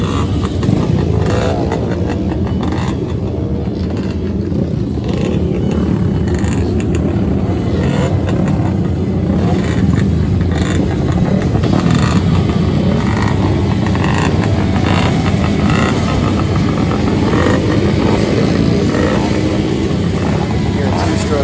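Two-stroke flat track motorcycles fire up and idle at a flat track racing event, a loud continuous engine drone with revving swells and people talking nearby.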